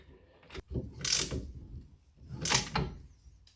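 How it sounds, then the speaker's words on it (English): A ratchet wrench tightening a bearing press adapter on a rusty, seized front wheel bearing, two close bursts of rapid clicking separated by a short pause. "And let's ratchet it in."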